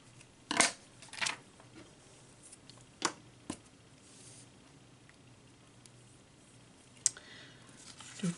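Scissors snip through scrapbook paper in a few short, crisp cuts spaced irregularly, close and quiet, with soft handling rustles between them.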